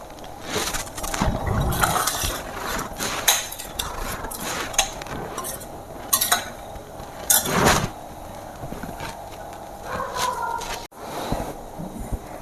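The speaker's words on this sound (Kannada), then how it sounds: "ಹಾಲು ಇವಾಗ ಹಾಲು ಹಾಕ್ತೀನಿ. ಇದು ನಂದಿನಿ ಹಾಲಿದು." Nandini milk is poured and stirred into broken wheat kheer in a pot, with repeated clinks and scrapes of a ladle against metal cookware, irregular and fairly close.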